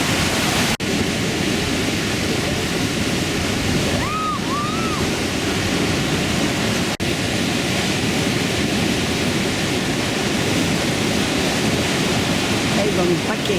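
Steady, loud broadband rush of a Pyrenean mountain torrent heard up close from a footbridge in Pau, continuous throughout with no letup.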